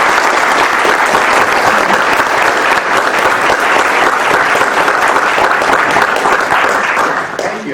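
A large audience at George Mason University applauds to welcome speaker Reza Aslan, with dense, loud, continuous clapping that holds steady and then eases off slightly at the end.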